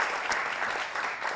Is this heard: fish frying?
no